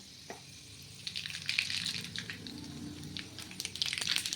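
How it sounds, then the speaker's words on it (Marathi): Mustard seeds hit hot oil over a lowered gas flame while tempering for a moth bean curry, starting quietly and building into a dense, close crackle of rapid pops and sizzle with no talking. "आता त्याच्यामध्ये मोहरी टाकणार आहोत"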